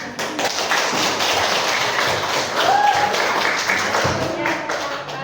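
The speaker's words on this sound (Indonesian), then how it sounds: "semua persentasenya bagus untuk tepuk tangan" A group of attendees gives steady applause after classroom presentations, a continuous wash of clapping with scattered taps and thuds lasting the full five seconds, fairly near and loud.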